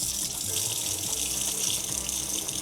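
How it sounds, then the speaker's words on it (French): Meat being rinsed in a kitchen sink under a running tap, a steady close gush of water splashing throughout with no talking. "je vais pouvoir égoutter tout ça et rincer le tout"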